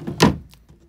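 Wooden sliding cabinet door on a yacht gives a single soft thunk as it slides shut, followed by a couple of faint light knocks in an otherwise quiet cabin.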